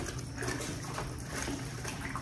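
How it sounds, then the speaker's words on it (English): Running water splashing steadily, as from a tap over a sink, with faint clinks of dishes being rinsed. "Wash them dishes as you go so they don't pile up."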